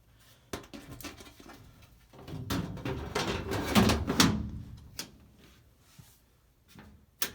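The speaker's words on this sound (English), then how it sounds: "Let's finalize this by putting on the doors and test our work." Metal doors being fitted back onto a Lennox G43UF gas furnace: scattered clicks, knocks and scraping panel rattles with a louder clattering burst in the middle, close and without talk.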